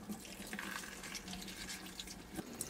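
Water runs from a tap to rinse something off, a faint, steady splashing hiss with a few soft drips, heard alone at low volume.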